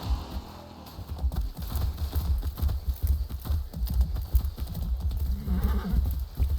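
A horse's hooves clip-clop steadily and close by as it climbs a hill, an irregular run of hard knocking steps with no talk.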